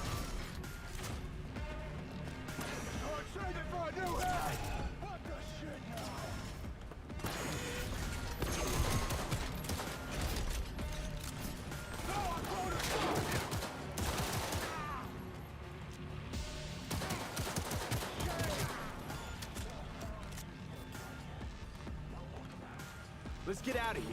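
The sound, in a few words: pistol gunfire in the video game Cyberpunk 2077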